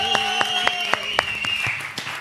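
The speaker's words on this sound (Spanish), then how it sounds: "un fuerte aplauso para Lalo Manzano" Applause for a guest on a Mexican talk show: evenly spaced, crisp claps sound over a sustained tone for about two seconds, then trail off.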